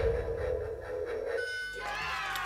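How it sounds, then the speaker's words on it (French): A lie detector on a French interview show signals a truthful answer with an electronic tone: a steady pitched sound swells in over background noise and slides into a rising warble, close and moderately loud, with no talk. "Le détecteur dit que tu dis la vérité."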